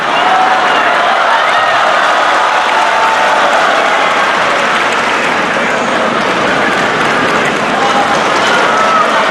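Loud, steady roar of an arena crowd cheering and applauding at a China Open men's singles table tennis final, a dense wash of many voices sustained throughout.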